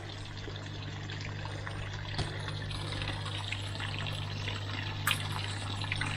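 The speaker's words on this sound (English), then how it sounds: "if we put the little pump that's in the water feature there, switch that on" A small water feature pump runs, and water trickles and splashes softly at close range over a steady low mains-like hum, with a couple of brief clicks.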